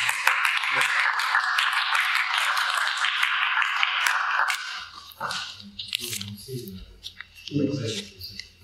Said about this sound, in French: Je pense que nos deux intervenants méritent bien nos applaudissements.